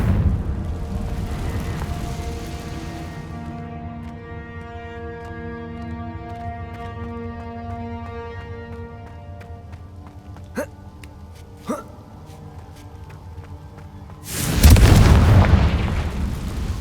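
A Confringo blasting spell in Hogwarts Legacy erupts as one loud, sudden explosive burst near the end, cutting in after a stretch of sustained orchestral music.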